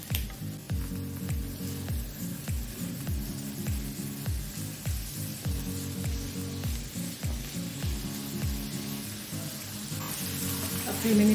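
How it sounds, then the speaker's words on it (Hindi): Sliced onions sautéing in a little oil for shahi white korma, a steady close sizzle broken by regular rhythmic scraping strokes of stirring throughout, with no talk. "हल्का से तेल डालूंगी, ज़्यादा नहीं, बस इसको भी सौते कर लूँगी।"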